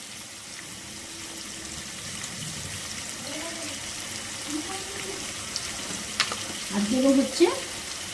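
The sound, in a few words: frying food in a pan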